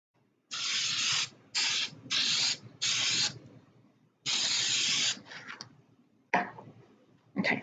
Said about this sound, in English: I'm going to give this a good spray real quick